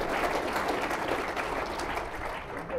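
Audience at a public discussion with Lord Conrad Black breaks into sustained applause, a dense, even wash of clapping from a crowd that fades slightly toward the end.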